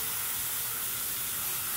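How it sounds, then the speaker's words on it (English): A garden hose sprays water steadily onto a Litom solar LED landscaping light outdoors, a loud, continuous close hiss with no break and no voices. "I'm like just spraying the crap out of this"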